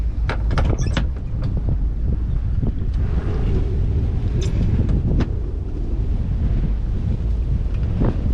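Steady, heavy wind buffets a boat cruising through shallow coastal water in Georgia, a continuous loud roar of microphone gusts and rushing water with occasional sharp thumps, no voices.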